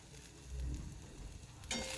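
Ginger paste dropped into hot oil with lightly fried onions, a quiet steady sizzle with a brief louder spatter near the end, heard alone at close range.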